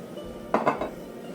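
A sauté pan is handled on a stovetop before being coated with olive oil, giving three quick metallic clanks and scrapes in a row against a low, steady room hum.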